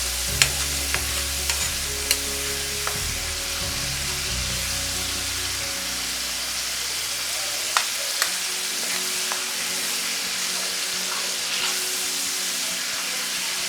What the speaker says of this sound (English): Allow it to fry for some minutes.